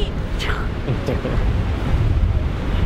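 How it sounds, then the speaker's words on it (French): Strong wind gusts across the mic on a sandy seashore, a steady loud roar blending with surf, continuous and close for a few seconds. "Il y a énormément de vent."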